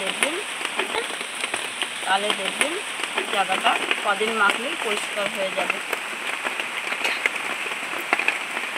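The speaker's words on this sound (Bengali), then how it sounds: "আকাশের অবস্থা খুবই খারাপ আর বৃষ্টি পড়ছে" Steady heavy rain falls outside, a dense continuous patter under a voice speaking throughout.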